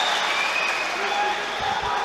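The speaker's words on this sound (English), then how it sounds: "Crowd absolutely loving this." Arena crowd at a judo Grand Slam final in Tbilisi roaring and applauding continuously, a loud broad wash of cheering with a commentator talking over it.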